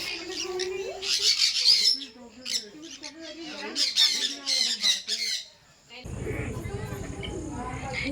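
Loud, harsh bird squawks repeat close by in bursts, with a short quiet gap before a noisy stretch at the end.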